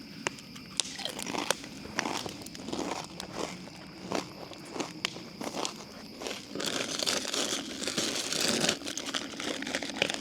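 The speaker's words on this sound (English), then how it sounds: "Listen, if you can hear me chewing those chips, we're done, I promise." Crunchy chips being chewed close up, with repeated crisp bites and crinkling of a bag in an irregular rhythm over low background noise inside an RV trailer.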